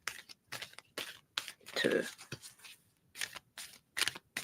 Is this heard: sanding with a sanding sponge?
no